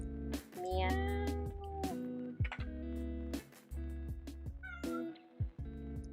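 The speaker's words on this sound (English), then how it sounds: "Meow." Cat meowing close by indoors, several drawn-out meows in a row with sharp knocks and bumps between them, and a person speaking quietly in the background.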